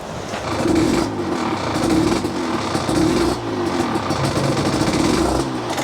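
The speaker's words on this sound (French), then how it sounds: "Le petit bruit du deux temps, là." Yamaha DTX two-stroke motorcycle engine idling close by, a steady buzzing putter with a slight rhythmic pulse and small fluctuations, loud and alone.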